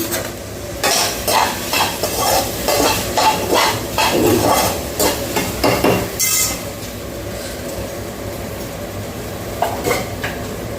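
A pot of fenugreek buttermilk curry bubbles on the stove while a utensil stirs and scrapes against it, a steady simmering sound close by.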